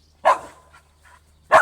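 A dog gives two sharp, close barks about a second apart, with a soft whimpering yip between them, against an otherwise quiet background.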